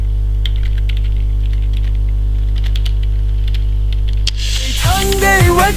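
Keystrokes on a computer keyboard as a command is entered on a Linux machine, quick irregular clicks over a steady mains hum, ending with a louder burst of other sound.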